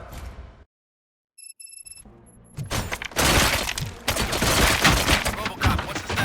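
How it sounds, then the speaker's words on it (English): Gunfire and shattering impacts in the video game RoboCop: Rogue City erupt after a brief silence and some electronic tones, building into a loud, dense barrage of shots and breaking debris. "Gunshots? What's going on?"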